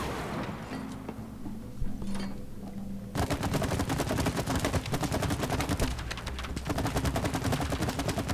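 Rapid gunfire from the video game It Takes Two, loud and dense bursts of shots in quick succession, with a quieter stretch of game noise and scattered shots at the start before steady heavy firing takes over.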